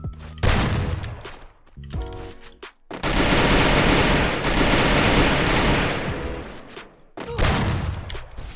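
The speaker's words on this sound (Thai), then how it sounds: "โอ้โหปืนอะไรวะทุกคนเมื่อกี้" Rapid automatic gunfire in the Free Fire video game rattles in loud, dense bursts separated by brief pauses, close and dominant throughout.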